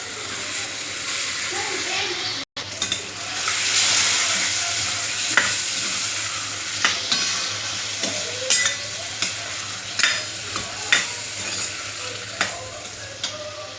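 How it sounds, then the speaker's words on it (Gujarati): Boiled pigeon peas and potatoes sizzle in an oiled pan of cooked masala while being stirred, a steady frying hiss broken by repeated scraping and clacking stir strokes, close and fairly loud throughout. "હવે આપણે તેમાં બાફેલી તુવેર અને બાફેલા બટાટા ઉમેરીશું"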